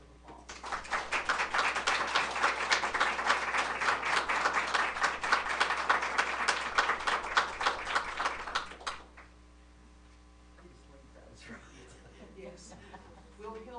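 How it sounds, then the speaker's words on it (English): An audience at a school board of education meeting claps together for about nine seconds, a dense, moderately loud round of applause that cuts off abruptly into quiet room tone. "Give them a round of applause."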